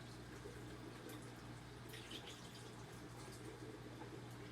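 Water being refilled into a dwarf seahorse aquarium during a water change, a steady close trickle and splash of pouring water running continuously with no talk.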